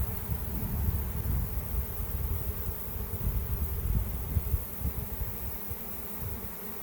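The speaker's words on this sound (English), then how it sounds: "there's probably 3 or 4 pounds of bees right here on the outside of the box so far, and they're just thick in the air still" A thick honey bee swarm buzzes in the air around a hive box, a dense, continuous drone with no pauses, close and steady throughout with no voices.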